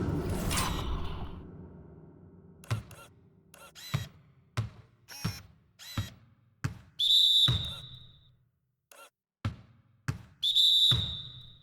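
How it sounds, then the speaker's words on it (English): A referee's whistle cuts through a basketball playoff game, the Timberwolves against the Rockets, as a couple of sharp shrill blasts sound over crowd noise and a string of squeaks, thumps and sneaker sounds on the court. "DeAndre Jordan gets the whistle that time"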